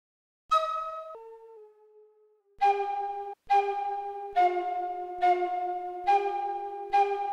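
Sustained synth tones with a bell-like attack: a short phrase, then one note struck repeatedly in a slow, even rhythm.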